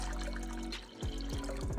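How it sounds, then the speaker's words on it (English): Two cups of water poured steadily into a container for soaking garlic with baking soda, a soft continuous splashing trickle close by, with no talking. "All right, so 2 cups of water going in."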